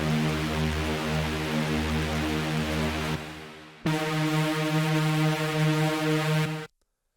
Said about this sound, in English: Lead boost is the typical drop start lead that you hear in a lot of tech house tracks.